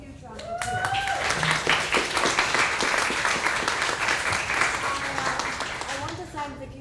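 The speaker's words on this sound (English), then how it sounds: "Please just give Vicki Assevero a huge round of applause." Audience applause at a literary festival panel, a dense wash of clapping filling the room for several seconds, with brief voices over it near the start and end.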